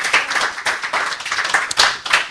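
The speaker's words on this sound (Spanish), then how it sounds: "Le pongo un aplauso al Señor." Short burst of congregational clapping for the Lord in a church service, close and loud, with distinct individual hand claps in an uneven rhythm.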